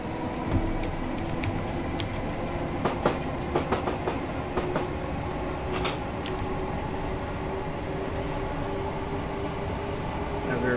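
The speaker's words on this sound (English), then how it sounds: "yeah, this train sounds really nice." A Class 456 electric multiple unit in Train Simulator 2019 runs from London Bridge toward Victoria, with a continuous rolling rumble, rail clicks and occasional sharp squeaks.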